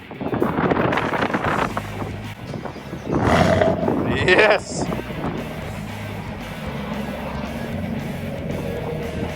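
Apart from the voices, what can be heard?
sports car engine remote start exhaust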